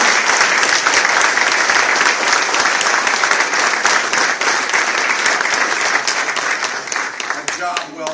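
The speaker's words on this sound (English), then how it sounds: "I would like for you all to give a wonderful round of applause to everybody standing here" Guests at a VIP reception give a long, dense round of applause, a loud continuous roar of many hands clapping that thins toward the end, with a voice briefly heard over it.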